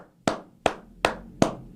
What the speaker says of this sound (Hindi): ताली बजाओ एक बारी बांग्लादेश के लिए